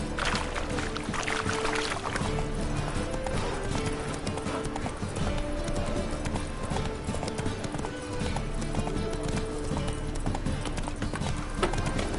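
Roach, the horse in Witcher 3, gallops with loud, rapid rhythmic hoofbeats that run steadily throughout, mixed with game music and ambient sound.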